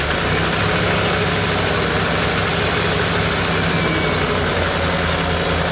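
An old Ford engine idles steadily up close, a dense rumbling chug with constant vibration and no voices, holding even for several seconds.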